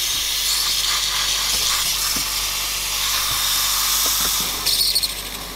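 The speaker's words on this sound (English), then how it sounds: "just run the wand for a sec on the frothing thing" A steady, loud hiss of the steam wand on a Breville 870XL Barista Express frothing milk runs throughout, with a brief gurgling flutter near the end.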